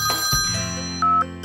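A toy telephone rings with bright electronic bell tones in several short bursts, the last held a little longer, loud and close without any voices.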